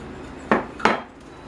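A fork clinks twice against a bowl while mixing a thickener for homemade cream of celery soup, two sharp, close knocks about a third of a second apart over a quiet background.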